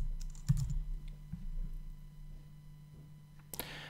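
Several quick keystrokes on a computer keyboard while entering a user name in a CMS, scattered clicks early on and a brighter burst near the end over a quiet room hum.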